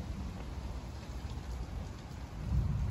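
Steady rain pours during a severe thunderstorm in Toms River, with a low rumble of thunder swelling near the end, dense and continuous with no voices.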